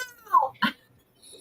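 A pet cat named Ox Crimson gives a short, close meow with a rising then falling pitch, followed by a brief sharper chirp, set against an otherwise quiet room.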